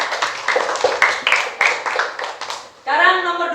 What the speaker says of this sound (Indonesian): Tepuk tangan untuk Legia